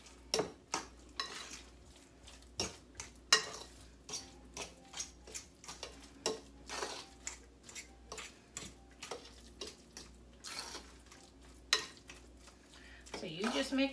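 A spoon stirs a spinach and cheese filling in a bowl, giving a series of close, irregular clinks and scrapes at a fairly steady pace, with a brief voice near the end.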